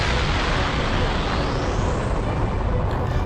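A loud, sustained roaring energy blast explosion from an animated Goku fight scene, filling the whole stretch as dense, continuous rumbling noise with no pause.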